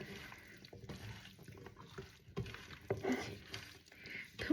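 Frozen kaski fish are washed by hand in water, with soft irregular sloshing and splashing close by, quiet and uneven.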